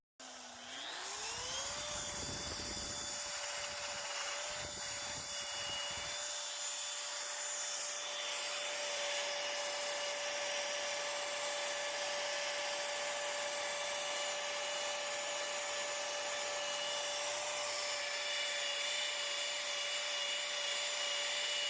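A machine polisher buffs the metal brightwork of a Cessna aircraft at speed setting 6, a close steady high-pitched motor whine that spins up quickly and holds with a scraping rush early on, no talking.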